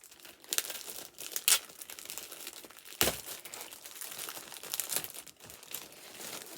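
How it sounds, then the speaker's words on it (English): Stiff fabric packaging crinkles in irregular bursts while cross stitch fabrics are handled, close and fairly quiet, with sharper crackles scattered through it. "Sorry for the crinkling."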